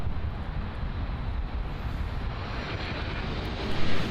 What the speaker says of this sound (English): We have an American Airlines Boeing 737-800 arriving in from San Pedro Sula